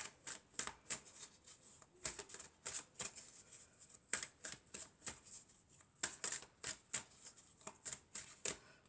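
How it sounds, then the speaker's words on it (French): Oracle cards are shuffled and drawn in a steady run of crisp riffling slaps, close and fairly loud, with brief pauses between bursts and no talking. "Alors on va prendre encore une carte."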